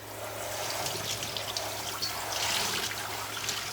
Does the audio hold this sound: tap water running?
yes